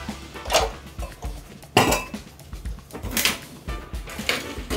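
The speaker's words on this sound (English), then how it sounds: "These are the dishes from breakfast and lunch, and that's what's gonna go in the dishwasher." Breakfast and lunch dishes, pots and cutlery clatter as they are loaded into a dishwasher on a boat, with a series of close clinks and knocks at an irregular pace.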